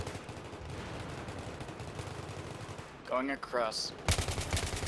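Rapid automatic gunfire bursts in a video game, quieter for the first few seconds and then louder and sharper near the end, with a voice briefly speaking over the middle.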